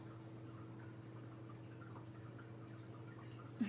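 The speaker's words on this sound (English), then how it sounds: "The water fountain." A small indoor water fountain trickles steadily and faintly, a soft continuous flow of running water with a low hum beneath it and no voices.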